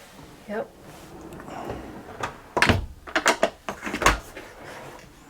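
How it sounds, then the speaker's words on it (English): A dishwasher door in the galley of an Amel 50 sailboat is pulled open with a couple of solid thunks and rattles, close by, while people talk around it. "Oh, dishwasher."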